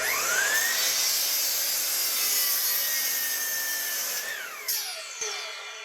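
A saw blade cuts through a piece of firewood, giving a loud, steady, close whine with a rising pitch at the start that winds down near the end, followed by a couple of light knocks.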